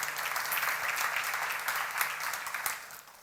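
An audience at a church seminar claps together in a steady burst of applause lasting about three seconds, moderately loud and even before it cuts off.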